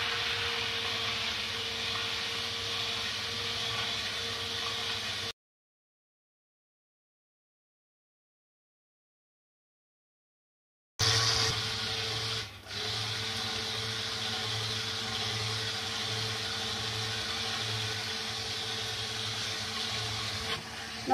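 A blender whirs steadily while mixing guava powder into oil for homemade soap, its motor hum broken by a long silent gap before resuming with a faint pulsing rhythm.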